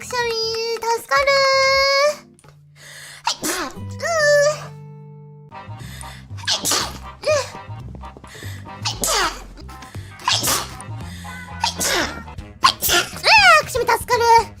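A virtual streamer sneezes in a sharp, high-pitched burst, surrounded by squeaky vocal noises, whines and babble over a low tonal backdrop, loud and close.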